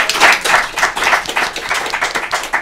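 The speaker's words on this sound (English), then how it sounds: "Could you give a quick round of applause to our panel this evening?" An audience at a panel debate claps steadily in a short burst of applause, close and lively throughout.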